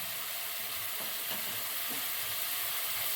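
Kashmiri red chili masala frying in oil for home-style butter chicken, giving a steady, close sizzle that runs evenly throughout with a few soft stirring scrapes.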